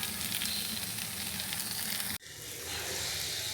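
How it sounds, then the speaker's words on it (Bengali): Boiled papaya mash sizzles steadily in a hot wok as its leftover water cooks off, a close, dense hiss that cuts off abruptly and then resumes at the same level. "একটু পানি ছিল যার কারণে কড়াইতে দিয়ে টানিয়ে নিচ্ছি"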